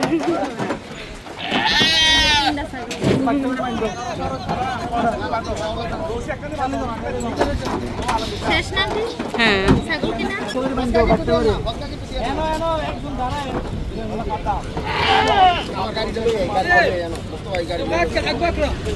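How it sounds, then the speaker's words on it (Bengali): Goats bleating loudly and repeatedly at close range as they are carried in arms and loaded onto a vehicle at a livestock market, with several people talking over and between the calls. "ছাগল কোলা করে গাড়িতে তোলা হচ্ছে"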